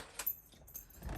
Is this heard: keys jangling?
yes